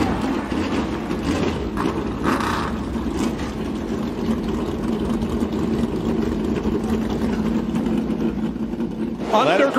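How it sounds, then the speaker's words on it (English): NASCAR Cup Series stock cars at Circuit of the Americas fire up and settle into a steady, rumbling idle, a continuous engine drone with people talking over it throughout. "Drivers, start your"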